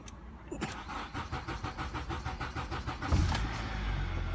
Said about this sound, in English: So now what I'll do is I'll try and start the vehicle